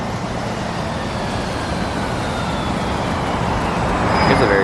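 A New Flyer Xcelsior transit bus passes on a road between Seattle and Portland, a broad rumbling roar of engine and tyres that swells slightly toward the end as it draws near, with traffic noise around.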